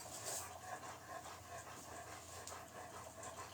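A dog pants steadily with soft whimpers in a quiet room, close by and fairly faint, a continuous breathy rhythm without talking.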